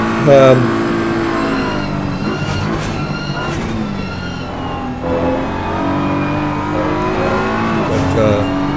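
BMW GT3 race cars in a sim racing game at Imola, engines droning and shifting pitch as they race close together, steady and loud beneath continuous commentary.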